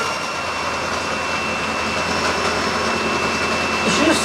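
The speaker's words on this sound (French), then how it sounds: "25 minutes, il faut le mixer." An electric mixer beats cake batter for a leïkah, a pound-cake-style quatre-quarts, with a steady, loud motor whine that holds unbroken for the whole stretch.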